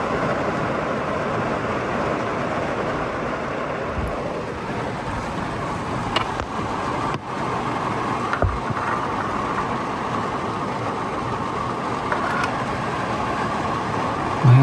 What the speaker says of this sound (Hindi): देखिए अभी कितनी तेज़ बारिश चल रही है बाहर